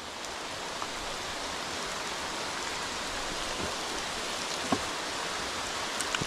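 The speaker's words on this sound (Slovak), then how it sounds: "ale prší pekne" Rain falls steadily at night beside a river during carp fishing, a soft continuous hiss with a few faint individual drops and taps standing out near the end.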